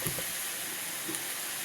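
Meat browns in a pan with a steady, moderate hiss of sizzling fat and faint crackles, heard alone without talk.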